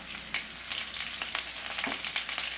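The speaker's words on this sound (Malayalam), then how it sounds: "ചെറുതായിട്ടൊന്ന് ഫ്രൈ ആയിട്ട് വന്നോട്ടെ." Curry leaves crackle and fry in hot oil in a pan for a Malabar-style roasted-coconut chicken curry, with a steady sizzle and scattered sharp pops close by, alone without voices.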